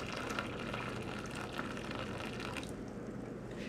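Hot water from a kettle filling a roasting pan for a cheesecake water bath, a soft, steady trickling pour that carries on and then thins out near the end, quiet and close.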